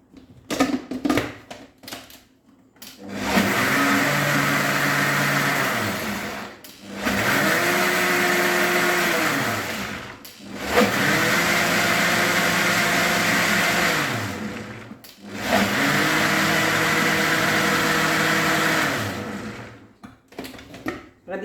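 A kitchen blender grinds a homemade butter mixture in four long, loud runs of steady motor whine, separated by short pauses filled with faint clatter.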